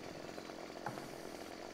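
A chainsaw cuts into a tree in Landwirtschafts-Simulator 15, giving a steady, faint, buzzing drone with no talk.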